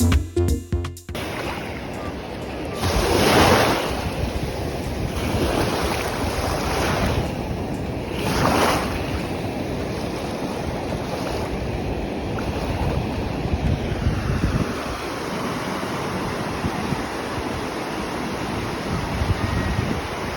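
Ocean waves roll and wash onto a beach, with steady surf noise and periodic swells under heavy wind buffeting the microphone; no one speaks.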